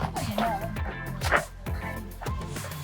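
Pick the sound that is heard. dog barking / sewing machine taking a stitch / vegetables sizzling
dog barking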